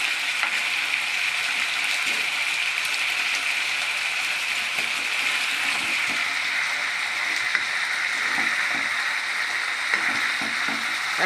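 Chicken pieces fry in a pan for a lemon chicken curry, turned one by one, with a loud, steady sizzle and occasional stirring scrapes running throughout, no talking.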